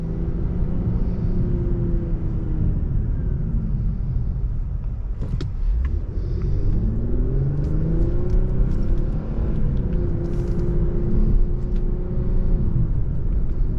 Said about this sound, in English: you'll get rev mass downshifts for a sportier sound and feel